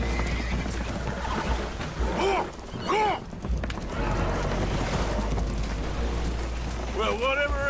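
Spooked horses neigh and whinny several times in Red Dead Redemption 2 aboard a boat taking on water, sharp wavering calls over a constant low rumble of wind and water.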